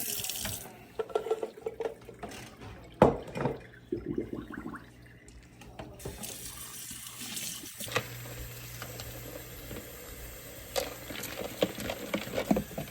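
Tap water runs into a sink while something is rinsed beneath it, a steady splashing wash with occasional louder spatters and clatters, close by in a kitchen during preparation of Jamaica, horchata and a seven-layer salad.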